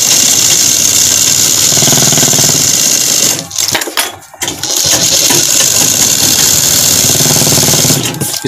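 Sewing machine running steadily while stitching the folded hem of a kurti, a continuous loud mechanical whir that briefly drops off midway and then resumes at the same pace.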